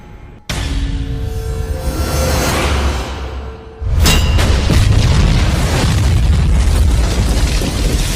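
A smoke grenade detonates with a sudden loud boom, followed by a hissing rush of smoke, then a second heavy burst that leaves a dense roaring spread of noise; no talking.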